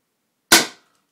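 A Flasc TM-15 paintball marker, unported, fires a single sharp shot, a loud close crack with a quick decaying tail and then silence.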